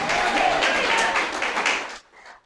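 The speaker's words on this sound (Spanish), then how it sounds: "Aplaude a Dios por eso." A church congregation applauds in a dense burst of clapping for about two seconds, then cuts off sharply, leaving a brief faint trail of sound.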